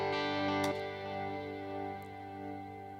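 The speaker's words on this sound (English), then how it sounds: "as we continue to add more feedback to our knob here" Multi-tap delay in Cubase with feedback raised, a dense sustained tonal wash of repeating echoes smearing into a reverb tail, steady and loud throughout with a brief bright burst near the start.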